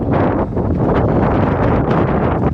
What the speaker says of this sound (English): That wind's quite strong now.